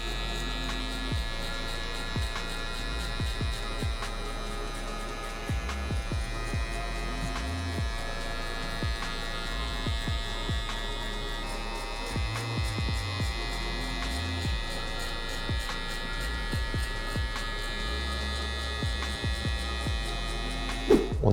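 Electric hair clippers fitted with a half guard buzz steadily while cutting a drop fade in a barbershop, a continuous close hum with small rhythmic changes as the blade moves through the hair, and no talking over it.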